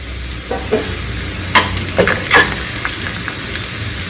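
Food frying over a medium flame in a pan for South Indian chutney, stirred now and then, with a steady close sizzle and a few sharper scraping clicks, no voices.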